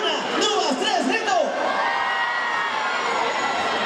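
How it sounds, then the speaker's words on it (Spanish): Women in the audience at an Orquesta Galilea festival concert in San Pedro de Vilanova let out a shrill collective scream on cue, a loud high-pitched burst of massed voices that quickly settles into a sustained crowd roar. "un grito de todas las mujeres"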